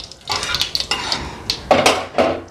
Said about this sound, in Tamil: எண்ணெய் காஞ்ச உடனே கொஞ்சம் கடுகு போட்டுக்கலாம்.